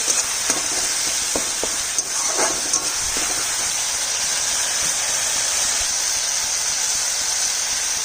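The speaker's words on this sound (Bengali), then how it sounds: "মশলাটা আর একটু ভাজা হবে মশলাটা ভালো করে ভেজে" Spice paste fries in oil with eggplant and potato for a vegetarian curry, a continuous close sizzle and hiss running steadily throughout with occasional stirring scrapes.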